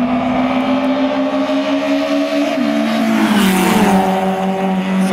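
Rally car engine screaming loudly as it launches in a race and shifts from first into second, revving up through the gears while accelerating away, with tire noise and no talking.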